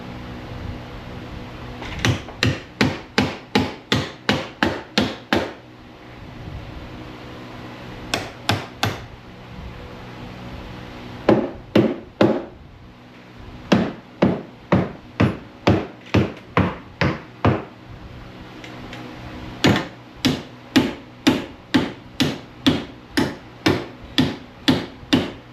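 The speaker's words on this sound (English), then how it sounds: "I love this hammer, man." Rapid bursts of hammer blows on metal, struck in quick runs of several hits with short pauses between, loud and close.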